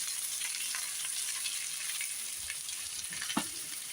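Urad dal vada pieces sizzle steadily in oil on a hot tawa, a dense continuous crackle with a few louder pops, close and alone without talk.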